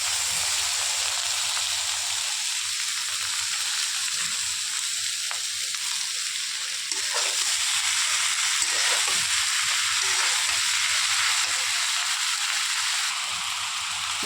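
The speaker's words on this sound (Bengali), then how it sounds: "এবার ডিমটাও ভেজে নেব।" An egg fries in a pan with a steady, bright sizzle and faint scraping stir sounds, heard close and continuous with no talking.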